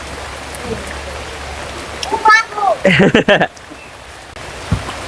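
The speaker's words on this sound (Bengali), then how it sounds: "সারাদিন আজকে বৃষ্টি" A steady hiss of rain falls through an all-day downpour, with a voice and brief splashy movement rising in the middle before the soft wash of rain carries on.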